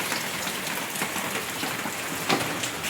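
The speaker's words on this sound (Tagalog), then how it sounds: "malakas na po yung ulan hanggang ngayon mga katiks" Heavy rain pours steadily, a dense continuous hiss with scattered drops hitting nearby surfaces.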